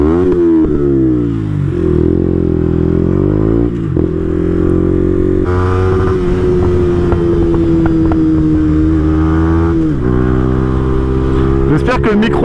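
A Yamaha R125 125cc motorcycle is heard on a ride, its engine droning loudly and steadily close to the microphone. The pitch rises and falls as it accelerates and shifts through the gears, with wind buffeting throughout.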